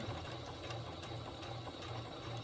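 A sewing machine stitches a tote bag with a steady, fast mechanical whir and rhythmic needle clatter, close and faint, with no talking.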